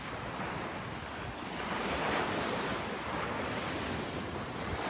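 Ocean surf washes steadily onto the shore at Hollywood Beach, Florida, at sunrise, a continuous broadband hiss of breaking waves mixed with wind buffeting the microphone, with no voices.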